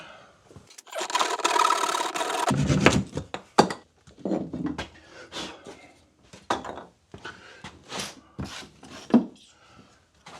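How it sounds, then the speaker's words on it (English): A hand back saw cuts through wood at a workshop bench. A dense stretch of rasping strokes is followed by scattered knocks and short scraping sounds as the cut piece is worked free. "Maybe I'll try out that back saw and see if it actually cuts."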